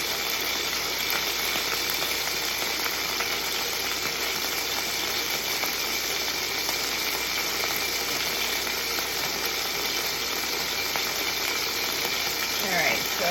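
Sausage frying in a pan for broccoli rabe and sausage gives a steady, close, even crackling sizzle that runs unbroken throughout.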